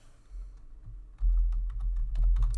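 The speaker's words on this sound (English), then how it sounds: "You could keep on typing" Typing on a computer keyboard, a run of quick irregular key clicks that starts soft and then grows louder and denser, heard close up with no talking.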